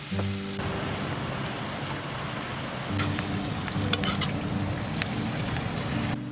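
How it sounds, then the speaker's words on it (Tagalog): Onion, garlic, canned sardines and sweet potato leaves sautéing in a pan, a steady broad sizzle running throughout with a few brief clinks and stirring sounds over it, no talking. "igigisa mo lang po na ang sibuyas, bawang, lagyan na po natin yung sardinas at pagkatapos po niyan ay halu-haluin natin ng konti"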